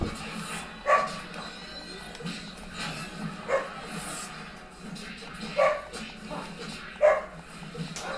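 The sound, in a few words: dog barking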